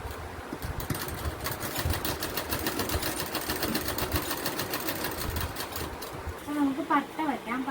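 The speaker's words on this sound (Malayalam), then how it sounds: "ചെറുതായിട്ടൊന്ന് ഇങ്ങനെ ഒന്ന് മടക്കി തയ്ച്ചു കൊടുക്കണം." A sewing machine runs steadily as it stitches a small folded hem along the side edge of a skirt. The hum is close and continuous, then it slows and stops near the end, where a few faint squeaks and clicks follow.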